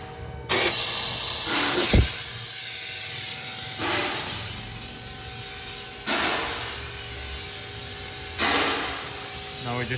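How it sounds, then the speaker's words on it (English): A compressed-air vacuum pump on a 2018 Acura MDX cooling system hisses steadily, pulling air out of the system, with periodic louder bursts of rushing air close by. "Now we're just basically removing all the air in the system."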